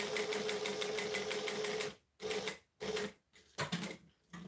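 Sewing machine top stitching along a fabric edge: a fast, even mechanical chatter up close, running continuously and then breaking into several short bursts separated by pauses.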